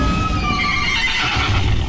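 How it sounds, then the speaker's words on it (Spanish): A horse mount neighs in World of Warcraft, a loud whinny ringing out alone, with clip-clop hoof sounds underneath. "Me he tenido que bajar del caballo."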